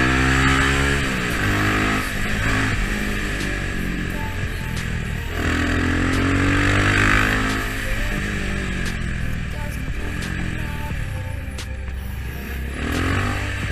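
A motorcycle rides through traffic with its engine droning loudly and steadily, rising and falling in pitch as it changes speed, with road and wind noise throughout.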